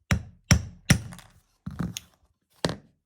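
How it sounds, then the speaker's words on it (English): A hammer striking a tiny piece of platinum, five sharp metallic blows spaced unevenly, each a short bright impact with a brief ringing decay, close and alone. "So you have to hammer it down"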